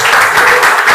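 Audience applause for students at the end of a vocational high school digital business class, loud and dense, steady clapping throughout.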